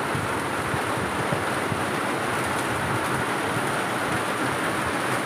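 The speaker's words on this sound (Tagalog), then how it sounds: "Ayan, umulan na mga boss." Rain falls steadily outside, a dense, even hiss of drops on surfaces that holds at a constant level without pauses or voices.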